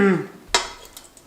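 Pasta stirred in a metal pot makes a brief metallic scrape and clink against the pan, close and sharp after a short spoken word, followed by faint light rattles.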